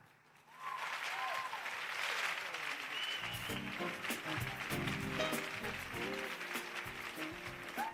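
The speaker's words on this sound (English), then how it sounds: "Can we give him another round of applause?" Audience applause at a fintech conference in Nigeria, rising quickly and sustained as a dense wash of clapping with some crowd voices and music underneath.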